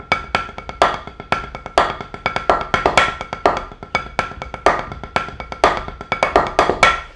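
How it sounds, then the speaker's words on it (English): Drum kit groove built from double paradiddles and single paradiddles, played loud and close with a steady rhythmic flow of sharp hits and shimmering cymbal wash, no voices. "So this is very much drum set groove"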